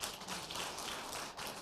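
Congregation applauding at a church service at GBI Kapasa, a steady wash of clapping lasting the full moment with no voices on top.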